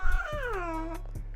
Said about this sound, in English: I could hear a little Shakai in the background doing his little singing